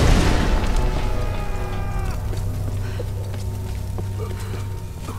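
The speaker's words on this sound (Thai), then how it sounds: "อุ้ยระเบิด" A loud explosion in the video game Tomb Raider bursts at the start, then a rumbling tail fades slowly under low background hum.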